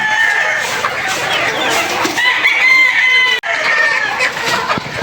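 Backyard chickens cluck and a rooster crows among them, several overlapping calls close by over a busy bird chorus that keeps going throughout.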